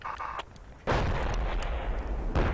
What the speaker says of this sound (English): Someone's getting shot by a tank.